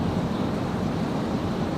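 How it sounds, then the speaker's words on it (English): Heavy rain pours down steadily outside at night, a dense, even roar of water with no break and no voices. "Listen to that rain. Look at that. Oh, the water is just pouring"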